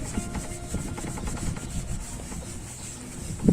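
A cloth rubs and scrubs underneath a camper van roof spot to clean it before gluing a 390W 24V solar panel, making faint, close, irregular scratchy strokes with a sharper knock at the end.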